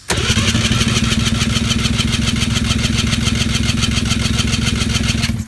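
A rebuilt vintage Saab two-stroke engine on a bench cranks over rapidly for a compression test in an even, chugging rhythm without catching, loud and close, for about five seconds before stopping.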